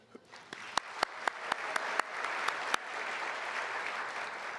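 Audience applause at a city's State of the City event starts with a few distinct, spaced single claps, then swells into steady, dense clapping from a crowd in a hall.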